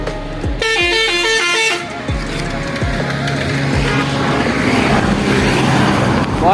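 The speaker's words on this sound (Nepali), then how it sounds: "बसले कति हर्न मारेको" A bus on a road blasts its horn in a loud, sustained, close-range honk lasting about a second, heard from a moving motorbike over constant rushing wind and engine noise.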